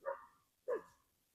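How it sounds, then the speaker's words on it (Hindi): Two sharp barks from dogs chasing a nilgai outdoors, the second following after a short pause, mid-distance and fairly quiet, with no talking. "कुत्ते ना इनके पीछे पड़ गए"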